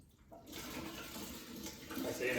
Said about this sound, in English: I'm going to pour all these ingredients in.